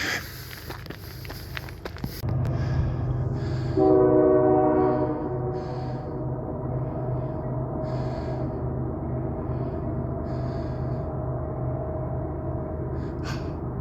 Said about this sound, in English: I can see the train now. Ah, cool. Horn blows